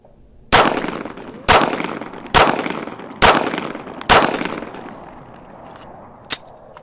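Pistol shots fired at targets, five loud sharp cracks roughly a second apart, each with a ringing echo tail, then a fainter sixth pop after a pause.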